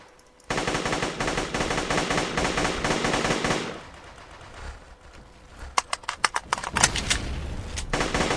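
Rapid automatic gunfire in the shooting game GunCraft, a long continuous burst that stops, followed by a run of sharp separate shots and short bursts, all loud and close.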